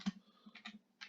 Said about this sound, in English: we're just going to type in here, what is the